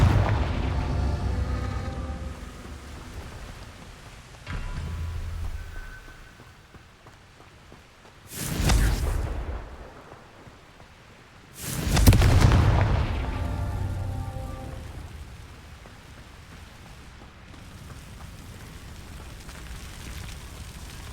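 Two loud, booming fire-spell explosions from the Hogwarts Legacy video game burst out about four seconds apart over a low rumbling backdrop, each with a sharp onset and a rolling decay.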